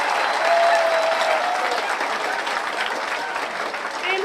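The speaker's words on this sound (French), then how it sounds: "Et je vous demande d'applaudir pour ceux qui sont là." A crowd applauds at a gathering in Brazzaville, loud continuous clapping from many people that peaks early and then tapers slightly, with faint voices mixed in.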